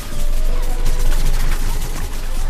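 Continuous rapid gunfire from a shooter match in Plants vs Zombies Garden Warfare 2, loud and dense, with overlapping bursts and crashing impacts filling the whole stretch without talk.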